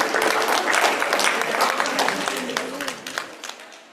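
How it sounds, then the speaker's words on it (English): An audience gives a round of applause at a conference, with dense clapping that stays loud, then thins into scattered individual claps as it fades. "Can we have a round of applause for Budia?"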